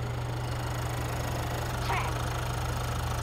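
A car engine idles steadily at close range during a noise check after a fuel additive, a low even hum with a faint rhythmic pulse and no speech.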